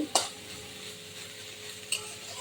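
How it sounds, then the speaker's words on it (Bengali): A spatula stirs bhatbhati cooking in a pan, giving two sharp scraping clinks over a soft, continuous sizzle at close range. "ঢাকা উঁচু করে এবার নেড়ে চেড়ে দিচ্ছি"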